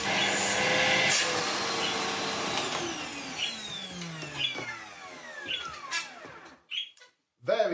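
A vacuum cleaner with a Dyson DC25 motor winds down after switching off, its whine gliding steadily lower and fading over several seconds, with small clunks and a moment of near-silence at the end.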